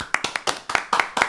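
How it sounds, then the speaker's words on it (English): A few people clap close by at a show's tenth-episode celebration, about ten sharp, uneven claps over roughly a second, with no talking. "Come on, let's clap it up. Let's clap it up."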